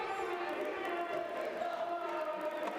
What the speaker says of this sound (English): Crowd making plenty of noise here in Jeddah.